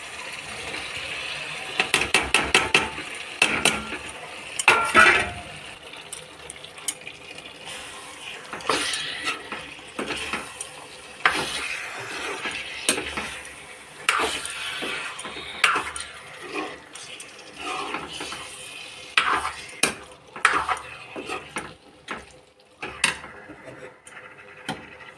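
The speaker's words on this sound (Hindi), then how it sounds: "अब मैं इसके अंदर डाल दूँगी ये पनीर।" Paneer goes into cooked masala in a pan and is stirred with a spoon. The stirring makes irregular, fairly faint clattering and scraping against the metal, with a few sharper clinks.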